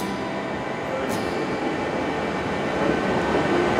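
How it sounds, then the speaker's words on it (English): A steady, loud rumble of a train arriving at Diekirch station in Luxembourg, constant throughout with a brief high squeal near the start and a slight swell toward the end. "Could be my train coming."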